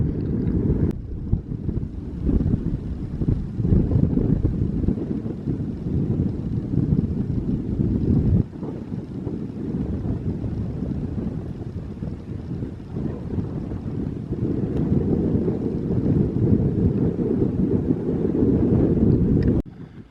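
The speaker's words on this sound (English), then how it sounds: "if you're wondering about the wind, and it's windy over my voice" Strong wind buffets the microphone during a boat crossing, a loud continuous low rumble with gusty surges for the full twenty seconds, and no voice is heard.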